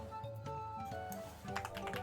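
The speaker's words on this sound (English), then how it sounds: "here's the other keyboard that you all have heard recently" Rapid typing on a computer keyboard, a quick irregular run of close, fairly quiet clacks and taps heard alone.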